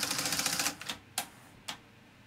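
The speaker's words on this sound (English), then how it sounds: "the tape automatically got sucked in, and the tape was then laced around the playhead" A Betamax video recorder's mechanism draws in a tape and laces it around the playhead, giving a quick burst of clicking followed by two distinct mechanical clacks, close and fairly quiet.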